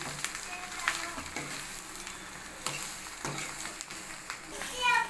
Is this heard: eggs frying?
yes